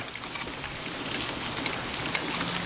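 Steady rain patters down outdoors around a smoker grill, a dense, even hiss of drops with no voices.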